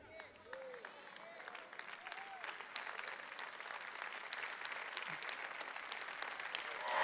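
An audience at a sermon-style talk breaks into sustained applause, a dense wash of many hands clapping that builds gradually and grows louder toward the end, with no speech over it.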